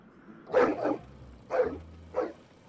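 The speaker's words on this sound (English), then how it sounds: "You woke up the roach dogs" Roach dogs in Siberia 3 bark three times in quick succession, close and fairly loud, with short pauses between the barks and no talk over them.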